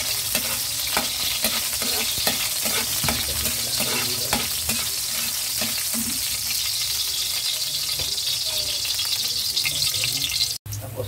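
Ginger stir-fries in a hot pan for a Chinese-style tokwa con carne: a loud, steady sizzle runs throughout, with scraping stirs and a short break near the end.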